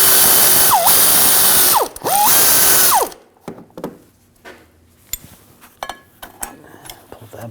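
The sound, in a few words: removing a bolt from a BMW 328i driveshaft coupler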